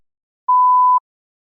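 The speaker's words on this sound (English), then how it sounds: "Please begin speaking after the beep." A single clean electronic beep signalling the start of a TOEFL speaking test response, a steady mid-pitched tone lasting half a second, with silence before and after.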